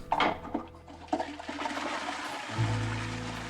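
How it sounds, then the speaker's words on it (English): A toilet in the video game Loco Motive: a few clunky clatters, then a rushing flush swells in and keeps draining, moderately loud with no talking. "I'm actually pretty impressed you're able to flush that entire chain"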